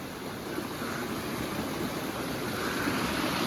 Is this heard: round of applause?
no